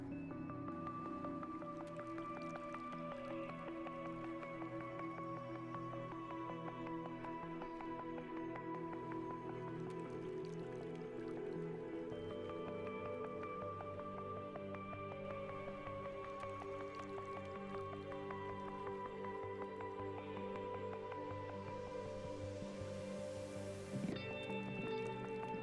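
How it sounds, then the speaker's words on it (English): Water drips and trickles inside glacier ice, soft scattered drops over a faint steady resonant hum, quiet and continuous with no voices. "The sound of water never stops."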